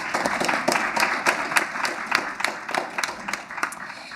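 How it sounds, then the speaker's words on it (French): Audience applause at a university history colloquium, steady clapping from many hands filling the room for a few seconds without speech. "Donc, on peut les applaudir."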